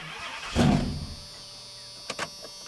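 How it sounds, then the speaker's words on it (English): A truck engine cranks and turns over once with a jump starter connected to the battery, a short loud burst heard from inside the cab, followed by a couple of faint clicks. "So let's get in the truck and try to start it."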